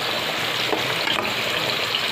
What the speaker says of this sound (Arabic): الزيت اتقدح اهوت، انزل بقى ايه بالبطاطس